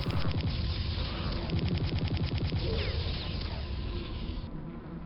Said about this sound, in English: Why does something sound like bees?